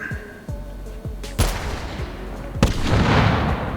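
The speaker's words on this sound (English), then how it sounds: "I believe you could also use this to set off the cannon" A cannon fires in the VR shooting game H3VR, with a few light mechanical clicks before two loud booms, the second followed by a long rumbling tail.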